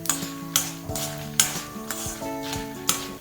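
Black pepper and cumin are stirred and roasted in a pan for rasam, giving a soft dry sizzle with repeated scraping strokes about every half second, close and fairly quiet.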